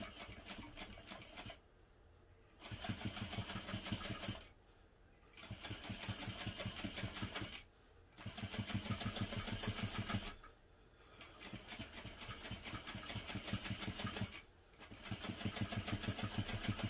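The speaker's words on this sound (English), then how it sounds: "And now I'm going to top stitch using an 1/8 inch seam allowance beneath" Sewing machine top stitching fabric panels beneath a zipper with an 1/8 inch seam allowance, rapid mechanical chattering in bursts of several seconds separated by brief pauses, close and steady with no talk.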